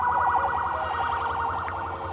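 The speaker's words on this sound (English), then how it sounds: "Ambulance going over the bridge." A wailing ambulance siren crossing a bridge, rapidly oscillating and loud, heard over steady low traffic rumble.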